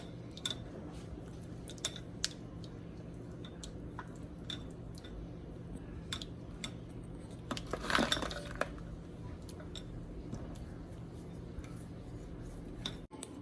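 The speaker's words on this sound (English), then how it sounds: "Now it's time to mix in some of our chocolate." Chocolate being stirred into fudge brownie batter, a utensil ticking and clinking against a bowl in irregular light taps over a steady low background hum, with a brief scraping swell midway.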